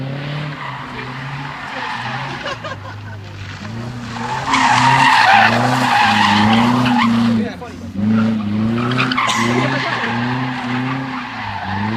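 A drift car skids through a car park with loud, sustained tire squeal and a revving engine, the screech wavering in pitch and rising midway, with voices faintly underneath.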